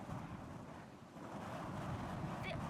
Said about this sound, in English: God, this wind is blowing me back.